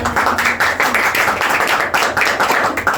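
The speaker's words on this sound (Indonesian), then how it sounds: "Sekali beri tepuk tangan." A classroom audience at a micro-teaching session claps in quick rhythmic bursts of handclaps, fairly close and steady, with no speech over it.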